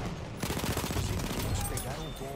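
Gunfire in the video game Battlefield 1: a burst of rapid automatic shots following a sharp onset, loud and continuous over the game's background din.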